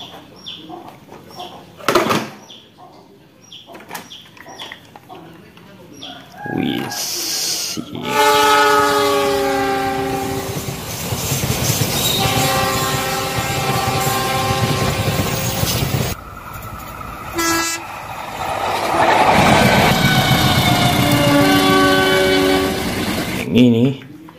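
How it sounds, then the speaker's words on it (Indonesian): A train horn blares in long, loud blasts, sounding twice over rumbling rail noise, with brief clatter and a voice at the start. "Ini kereta api Thomas, truk box keren."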